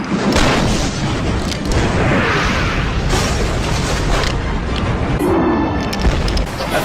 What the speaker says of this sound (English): The flames had lit the fuses to a row of cannons.